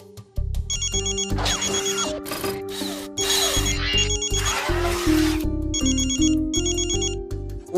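A phone ringtone plays loudly and repeatedly, a bright electronic melody ringing in steady bursts over a rhythmic musical backing.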